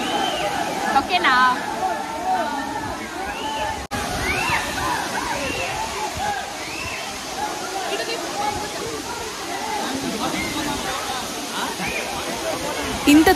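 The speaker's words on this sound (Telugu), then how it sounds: "మీరు చూడండి వాటర్ ఫాల్స్ ఎలా ఉందో." Waterfall at Penchalakona, a constant broad rush of falling water close by, filling the scene under people talking.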